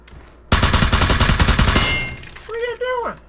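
Gunfire in the battle royale game PUBG, a loud close burst of rapid shots lasting over a second, followed by a voice exclaiming.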